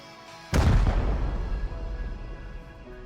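A rocket explodes against a base during a raid in the game Rust: one sudden heavy boom, loud and close, followed by a long rumbling tail of debris and reverberation that slowly fades.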